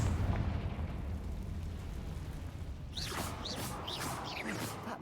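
A Confringo fire spell bursts with a rumbling explosion in the Hogwarts Legacy video game, a dense low blast washing over the first few seconds before sharper crackling pops and debris follow.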